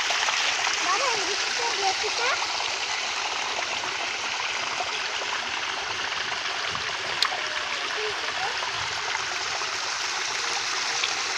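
Water pours steadily from an artificial fountain, a loud continuous splashing rush that stays even throughout, with a child standing in the spray and voices faint beneath.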